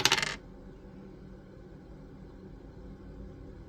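Dice rattle and clatter briefly across a table in one short burst, followed by a low, quiet room rumble.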